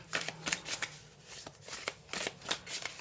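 Oracle cards are shuffled up close in a quick series of crisp riffling bursts, about a dozen soft slaps and flutters with no talking.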